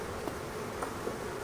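A dense, continuous buzzing of many bees close by, a steady drone with no talking.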